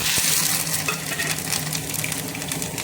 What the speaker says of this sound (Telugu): ఇప్పుడు వెల్లిపాయలు, కరివేపాకు వేస్తాను